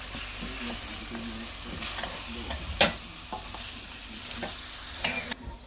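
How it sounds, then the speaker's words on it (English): Aubergine and potato fry in oil in a pan for spicy aloo baingan while a utensil stirs them, producing a low sizzle broken by several sharp scraping knocks, near and with no voices. "Now give it a stir. As you can see, the oil will all disappear. It's going to get soaked up by the aubergine."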